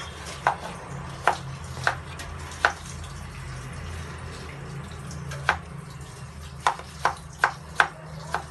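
Beetroot chopped into small pieces on a board, about ten crisp knife strikes at an uneven pace, close and fairly clear over a low steady hum, with no talking.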